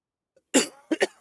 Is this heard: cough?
yes